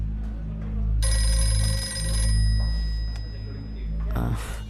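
A telephone ringtone chimes in a bright, repeating pattern over a low steady hum, with a person talking briefly near the end.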